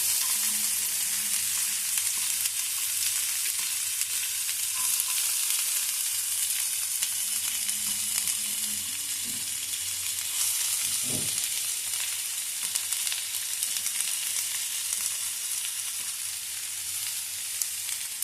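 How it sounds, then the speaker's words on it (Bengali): Chopped onions fry with chopped garlic and ginger in a pan with a steady, bright crackling sizzle, close and continuous, broken by an occasional soft scrape or knock. "পেঁয়াজটা আমার ভাজা হচ্ছে।"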